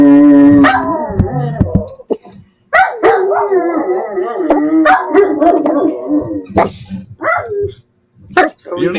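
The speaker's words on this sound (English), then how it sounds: "You don't even know what you're barking at, buddy." A dog barks, howls and whimpers in loud, close bursts, with someone talking over and between the vocalizations.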